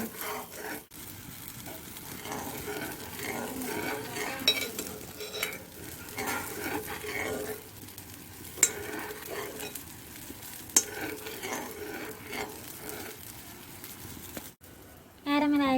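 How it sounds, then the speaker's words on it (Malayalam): Sugar being stirred in a pan as it caramelizes, with a steady scraping stir and a soft sizzle from the hot pan running throughout, a few brief utensil clinks, and a louder burst near the end. "നല്ലതുപോലെ ക്യാരമൈസായത് എടുക്കണം നല്ലതുപോലെ അട്ടി എടുക്കുക എന്നാൽ പഞ്ചസാര ലായനയായിട്ട് നമുക്ക് എടുക്കണം ഇളക്കിക്കൊണ്ടേ ഇരിക്കണം നമ്മൾ"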